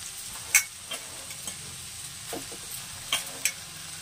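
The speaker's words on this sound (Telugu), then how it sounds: "చపాతీలన్నీ వేసేసుకొని ఒకసారి కలుపుకుందాం." Chapati pieces tossed through sautéed onion, tomato and green chilli in a pan, a handful of sharp scrapes and knocks of the spoon against the metal over a faint sizzle, close by and without talk.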